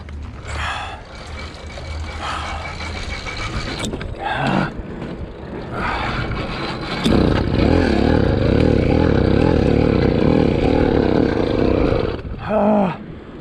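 A motorized bicycle engine with new jets revs with the throttle opened, giving a rough, buzzing, uneven roar that rises and falls, swells strongly in the second half and then drops off sharply near the end.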